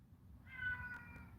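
A cat lets out a single drawn-out meow, moderately close and clear, over a low rumbling background hum.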